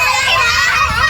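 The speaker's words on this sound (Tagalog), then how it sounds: "Pasensya na po sa sobrang ingay ng mga bata dito." Noisy children playing and chattering near a church in windy conditions, a loud, continuous jumble of high kids' voices close by with no pauses.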